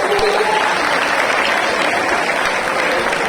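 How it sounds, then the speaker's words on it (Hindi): A large school audience of students at an English high school applauds loudly, a thick unbroken roar of clapping that stays at full strength from start to finish, with a few faint voices mixed into the crowd. "जोरदार तालियां।"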